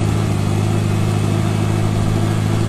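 Mitsubishi Evo car engine playing from a video, a loud, steady mid-pitched engine drone with a throbbing low rumble held for nearly three seconds before cutting off abruptly.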